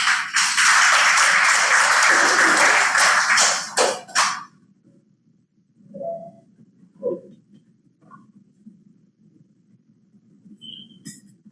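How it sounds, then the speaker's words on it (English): Applause from an audience at a government secretary turnover ceremony, a loud dense burst of clapping for about four seconds that stops abruptly, followed by a quiet room with a few faint knocks and taps. "Please give a big round of applause to Undersecretary Ireneo Boy Vismonte."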